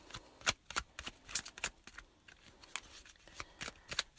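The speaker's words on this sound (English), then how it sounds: "If you guys have ever, you know, shuffled cards this way, sometimes you'll just have one sort of skip." A deck of oracle cards is shuffled by hand in a quiet room, giving a run of quick papery riffles and slaps in irregular bursts, close and clear with no voices.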